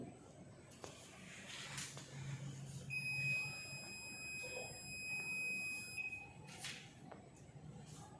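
A fume hood sounding its low airflow alarm in a laboratory, a high, steady electronic beep tone holding for about three seconds amid quiet room noise and faint background voices.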